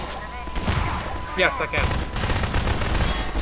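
Gunfire during a Half-Life 2 Synergy co-op fight, a steady stream of shots and bangs running throughout, with a player speaking briefly in the middle.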